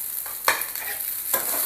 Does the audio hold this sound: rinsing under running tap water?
no